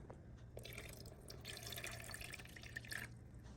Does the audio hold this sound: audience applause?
no